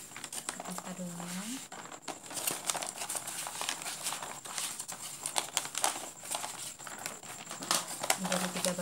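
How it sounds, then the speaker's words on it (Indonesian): Gift wrapping paper crinkles and rustles as it is folded by hand, with scattered crisp crackles and soft creases, close up, while a person talks over it. "Kita lipat kertas kadonya."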